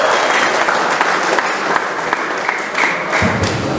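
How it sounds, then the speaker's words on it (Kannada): Loud, dense applause from a crowd at a pigeon tournament prize distribution event, continuous and steady throughout with scattered sharper claps and a few thumps. "ಜೋರಾದ ಚಪ್ಪಾಳೆ ಅವರೇ."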